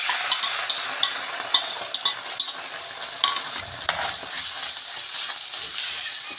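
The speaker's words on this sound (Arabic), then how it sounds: "هحط معلقه الصلصه كمان" Tomatoes and a spoonful of tomato paste sizzle steadily in a frying pan for a potato omelette, with repeated scraping taps of a spoon stirring the mix close up.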